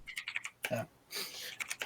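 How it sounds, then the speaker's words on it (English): Rapid, hard keystrokes clatter on a computer keyboard in fast bursts, furious typing heard close and fairly quiet, with other sounds faintly in the background. "I got some angry typing."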